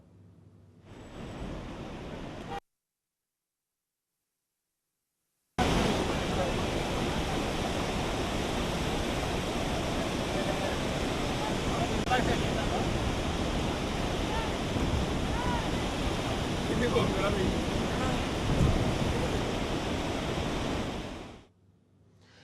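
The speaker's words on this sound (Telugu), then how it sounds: "దీంతో 5 గేట్లను 10 అడుగుల మేర ఎత్తి కిందకు నీటిని వదులుతున్నారు." Floodwater pours through five dam gates raised ten feet, a dense, continuous roar that holds steady after a short silent gap near the start.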